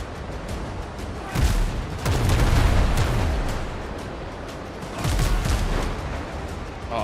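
Cannons fire in a pirate video game, a few heavy booms spaced seconds apart over a continuous rumbling battle bed, fairly loud and with no talking.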